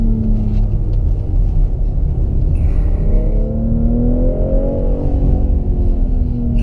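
A BMW car runs at full throttle on a performance-center track, heard from inside as a loud, steady engine drone whose pitch climbs smoothly through a long acceleration, with no talking.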